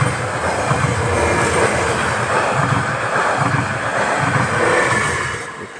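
A train bound for Helsinki rolls past at Mankki, Finland, with a continuous loud rumble of wheels and carriages and rhythmic clickety-clack beats recurring as the cars go by, no voices.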